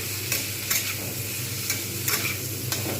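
Steady sizzle of bitter gourd and pumpkin frying with turmeric and salt in a pan, with a few sharp scraping stirs cutting through the continuous hiss.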